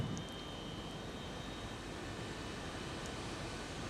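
Faint, steady jet engine whine and rumble of a Boeing 737 taxiing in the X-Plane 12 flight simulator, a constant drone with no voices.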